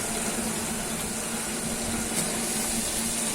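Mint and coriander leaves sauté in a pan for a 4 kg chicken dum biryani, giving an even, unbroken sizzling hiss at close range for the whole stretch.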